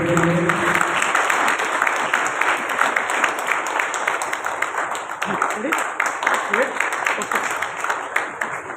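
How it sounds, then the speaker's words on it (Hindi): An audience at the opening ceremony of a Bible marathon applauds a visiting priest, with dense sustained clapping from a sizable crowd after a brief voice at the start. "फादर पीटर जो हमारे मेहमान फादर भरपूर तालियां बजाएंगे फादर पीटर के लिए"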